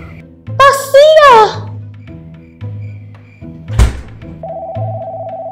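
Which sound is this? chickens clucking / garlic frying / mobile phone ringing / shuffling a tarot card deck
mobile phone ringing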